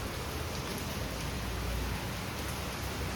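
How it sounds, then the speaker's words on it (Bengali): Heavy rain falls in a dense, unbroken hiss of drops on surfaces, steady and close throughout with no other sounds. "এই যে বৃষ্টি আর বৃষ্টি, সারা দিন রাত খালি বৃষ্টি ঝরেই চলেছে"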